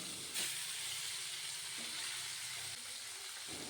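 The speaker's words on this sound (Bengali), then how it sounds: "আমি উল্টিয়ে দিচ্ছি যাতে অপর পাশটাও ভালো করে ফ্রাই হয়ে যায়" Rupchanda pomfret fish, rubbed with spices, frying in hot oil after being flipped, a steady close hiss and sizzle with a brief louder spatter early on and no voices.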